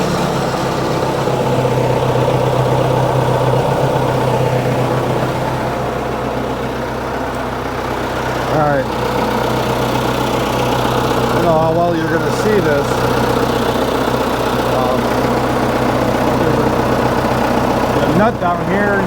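A Case 1845 skid steer, just fitted with a new pump, runs steadily at close range with a loud, continuous engine drone, with brief higher-pitched mechanical squeals and whines rising over it now and then.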